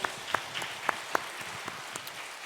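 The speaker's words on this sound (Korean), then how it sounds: "부활 승리하신 우리 예수님께 박수로 영광 돌립니다" A church congregation clapping at an Easter service, a soft wash of applause with a few distinct nearby claps standing out at uneven intervals.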